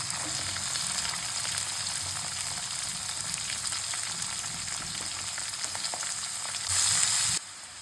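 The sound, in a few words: curry leaves, green chillies and chopped onions frying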